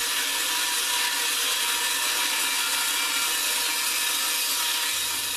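Power saw cutting narrow wood stock held against the fence with a push stick, a continuous harsh, hissing cutting roar at steady loudness throughout, close by and without talking.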